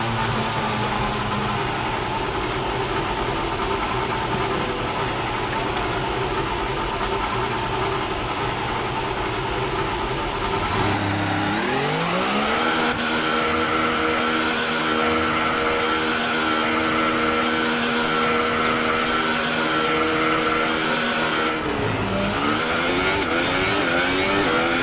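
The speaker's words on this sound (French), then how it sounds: "C'est le moment de faire quelques tours de piste." Video game F1 race car driving laps, a loud, continuous high-pitched engine whine that climbs and drops with gear shifts and throttle changes, heard close and uninterrupted throughout.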